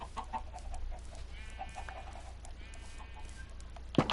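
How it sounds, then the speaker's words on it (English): Chickens clucking in a Minecraft survival game on PS4, with soft repeated clucks and a faint drawn-out squawk over a steady low hum, ending in a brief sharp knock. "I do take such good care of my chickens."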